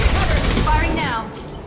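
Gunfire from a Mass Effect 2 firefight against Eclipse mercenaries, a loud dense burst of rapid shots with low booms, mixed with game chatter and effects, fading slightly toward the end.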